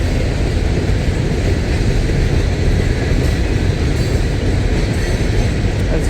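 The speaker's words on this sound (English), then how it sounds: "It's very ironic that these two trains are meeting, and I am stuck in between both of them." Two CSX coke trains, one loaded and led by heritage unit 1850 and one empty, meet and pass with a steady, loud, close rumble of rolling railcars that holds for the whole stretch without letup.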